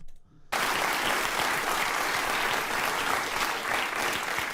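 Audience applause breaks out after a near-silent start and holds as a loud, dense, steady clatter of clapping hands from a large crowd, continuing for several seconds without letting up.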